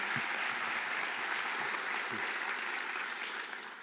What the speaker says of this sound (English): how about an applause for the parents and the friends that made it possible for you to be here